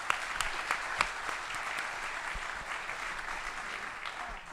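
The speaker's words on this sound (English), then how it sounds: "round of applause for our sponsor" A conference hall audience at the opening plenary of the 2023 WV Brownfields & Main Street Conference gives sustained, dense applause for a sponsor. The clapping holds steady and full throughout, with no voices over it.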